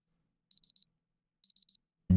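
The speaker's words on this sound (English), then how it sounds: "Why isn't the alarm stopping?" An alarm clock in the Fate/Grand Order video game beeps in two clear bursts of three rapid high electronic tones, evenly spaced and alone in quiet surroundings.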